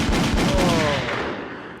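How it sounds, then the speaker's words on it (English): A gunshot sound effect played during a hip-hop talk and freestyle show: a loud, dense burst of cracking shots with a ringing tail that fades over about two seconds. "Gunshot."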